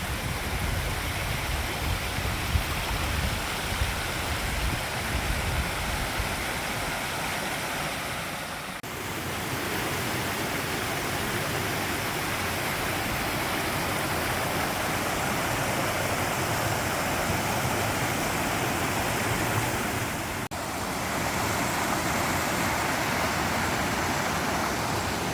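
Waterfalls along a fell walk up Great Rigg in the Lake District, a constant broad rushing roar of falling water, fairly close and steady throughout with no voices.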